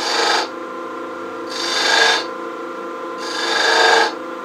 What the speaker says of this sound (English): Now I'm going to put just a couple of V-grooves to kind of finish off the bottom a little bit.